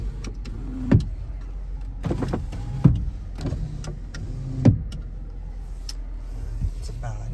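Power windows on a 2016 Jeep Wrangler Unlimited Sport run in short whirring bursts, each closing with a sharp click. Three clear cycles sound close up inside the cabin, with a fainter one near the end.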